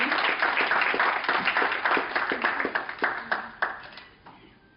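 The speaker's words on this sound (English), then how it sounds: "Deserve a round of applause" Audience applause at an award ceremony, a dense burst of many hands clapping that starts loud and gradually thins out to scattered claps as it fades.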